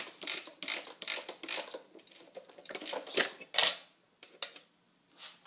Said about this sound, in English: remove the quarter inch bit,